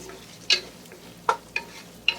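One large onion added to half a cup of hot oil with whole garam masala, including cloves, green and black cardamom, brings a faint steady sizzle punctuated by four sharp spoon clinks as it is stirred.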